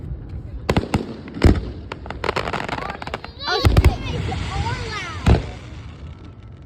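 Grand-finale fireworks burst in rapid succession with sharp booms and crackling, loud and close, while excited people talk and exclaim over them.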